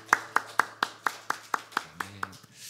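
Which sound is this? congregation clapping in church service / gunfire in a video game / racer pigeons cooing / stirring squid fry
congregation clapping in church service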